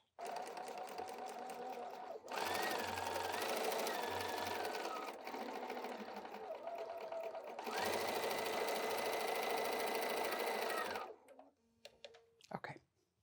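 A sewing machine stitching fabric for a door banner runs in two long, steady whirring bursts separated by a short pause, then stops and leaves faint handling clicks.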